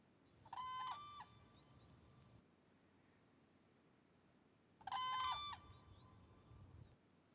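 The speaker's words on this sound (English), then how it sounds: "So I'll play this guard call now. I think of it as kind of a single note yell, and you're going to hear one bird call and then one respond." Two whooping crane guard calls, each a loud, harmonically rich single-note yell, come from one bird and then, after a few seconds of quiet, from a second bird answering.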